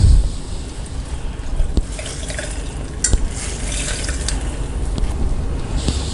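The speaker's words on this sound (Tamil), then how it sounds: "அப்படியே துணியோடு எடுத்துகிட்டு நல்லா புழிஞ்சிக்கலாம்" Water squeezed by hand out of freshly made paneer wrapped in a cloth, for a Cham Cham Bengali sweet: steady close-up trickling and dripping into a sink for several seconds, with a few sharp drips, and no voices.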